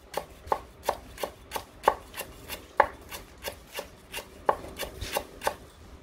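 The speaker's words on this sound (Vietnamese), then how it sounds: "Đó, hơi đập ra các bạn thái nó sẽ dễ." A knife crushes and chops lemongrass, garlic and shallots on a cutting board for Hanoi grilled pork, making a steady run of about sixteen close, crisp thuds at an even pace with no talking.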